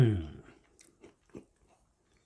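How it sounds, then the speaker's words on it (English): Someone bites into a crunchy shortbread biscuit and chews with a few soft, sparse crunches, close to the mic, after a brief murmur of voice at the start. "A nice crunch. It's not too hard. It's definitely a shortbread biscuit."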